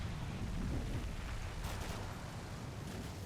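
Mortar artillery fire in the war game Combat Mission: Black Sea, heard as a continuous low rumble of distant blasts with a dull thud midway, and no talk over it.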